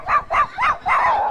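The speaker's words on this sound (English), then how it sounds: "As a dog barked in the distance" A dog barks four times in an uneven rhythm, each bark sharp and mid-pitched, heard alone at a moderate distance.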